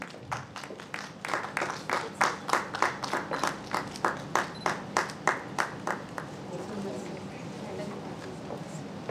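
An awards-ceremony audience claps in a brisk, fairly even rhythm, the applause swelling and then fading into room noise and a murmur of voices.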